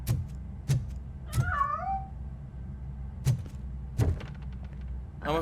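A cat meows in the game RoboCop: Rogue City, one clear rising-and-falling meow amid a series of sharp, loud thumps or knocks that recur irregularly over a low ambient hum.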